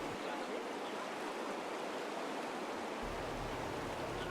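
A mountain torrent at a riverside healing rite on Réunion rushes in a steady, dense broadband roar of flowing water, loud and continuous throughout with no voices.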